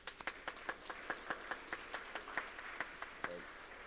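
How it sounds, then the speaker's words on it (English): Scattered, fairly sparse clapping from a graduation ceremony audience, with a couple dozen sharp distinct claps spread evenly over a few seconds, moderately distant, and murmuring voices faintly beneath. "So I think you deserve a round of applause."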